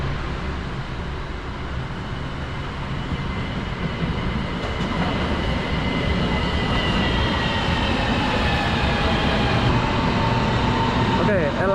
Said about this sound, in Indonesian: LRT yang aku tunggu sudah sampai